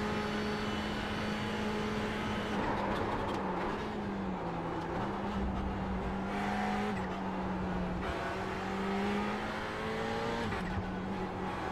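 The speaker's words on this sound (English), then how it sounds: "Yeah, this is a GT3 Ferrari 488." A Ferrari 488 GT3 race car in the iRacing sim holds a steady, loud engine drone throughout, its pitch dipping and climbing through gear changes with faint tire squeal and no talking.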